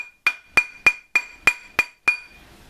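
A big rawhide mallet whacks jewelry metal seven times at a steady, even pace, each blow a sharp, ringing clink with a short decay, close and loud with no voices.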